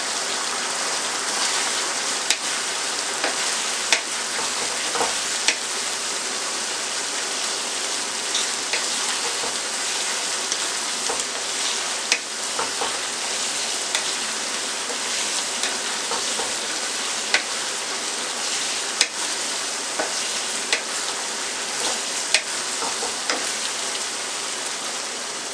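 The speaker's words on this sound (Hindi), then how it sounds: "लहसुन पेस्ट को मैंने 1 मिनट के लिए फ्राई किया। इसमें अब नमक मिर्च और हल्दी पाउडर डाल रही हूँ" Garlic paste sizzles in a pan with salt, chili and turmeric powder, a steady, dense crackle and hiss with scattered sharp pops and faint stirring clicks throughout.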